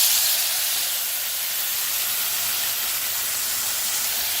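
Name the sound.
tomatoes sizzling in hot oil in a pan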